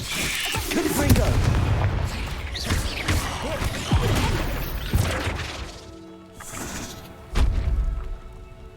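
Bombarda and Confringo explosion spells in the Hogwarts Legacy video game burst in a run of heavy booms and crashing impacts, with a last sharp blast near the end over busy game noise.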